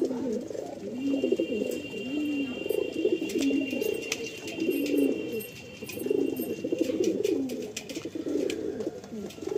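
A pair of Andhra pigeons coo repeatedly, in steady rolling rising-and-falling phrases, close and clear over faint background clicks and rustle.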